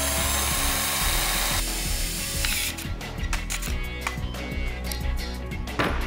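A power drill whirs continuously, with ratcheting, grinding mechanical noise and occasional clicks as the bit drills a hole while a fender extension is installed on a Honda Goldwing.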